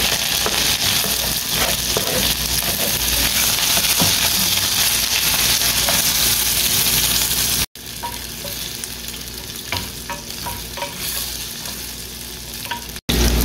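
Ginger and onion sizzle and fry in a hot pan for adobong cuttlefish, a steady dense crackle with occasional stirring scrapes, loud and close, briefly cut off twice.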